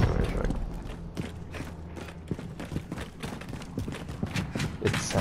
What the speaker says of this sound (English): It sounds like freaking footsteps though.